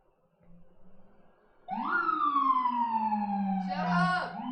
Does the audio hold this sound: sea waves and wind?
no